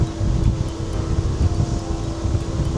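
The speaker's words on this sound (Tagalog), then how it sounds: "Lakas ng hangin na naman." Strong wind buffets the microphone outdoors beside a Dutch planted forest after a fat-bike ride, a steady low rumbling roar with gusty swells lasting throughout, no voices.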